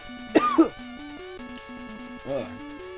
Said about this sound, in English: I'm having a really bad cough right now.